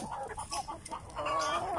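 Broiler chickens cluck and squawk up close in a farm pen, a busy overlapping flurry of calls that grows louder and more agitated toward the end.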